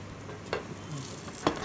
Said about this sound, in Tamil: புளி தண்ணி நல்லா இப்போ கொதிக்கட்டும்